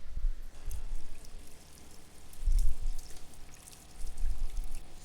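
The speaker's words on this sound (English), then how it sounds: "Just rinse this off real quick" Food rinsed under a running kitchen tap, a steady wash of pouring water with a few louder splashy surges as it hits the food and sink.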